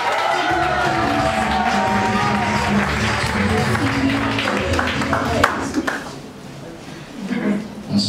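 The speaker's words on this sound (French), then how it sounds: "Est-ce qu'on peut applaudir très fort?" Guests at a French civil wedding ceremony clap together in a room, a steady patter of many hands that mixes with voices talking over it and fades toward the end.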